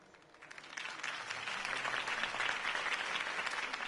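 Applause rises from a quiet start into sustained clapping from a sizable crowd in a video game, steady and fairly even until the end.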